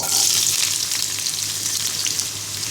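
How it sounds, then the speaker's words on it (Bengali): Chopped onion frying in hot soybean oil gives a continuous close, bright sizzle with a steady hiss and no talking. "তেলটা গরম হয়ে গেলে আধা কাপ পরিমাণ পেঁয়াজ কুচি দিয়ে দিব"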